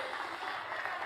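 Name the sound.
crowd applauding first-time voters and young leaders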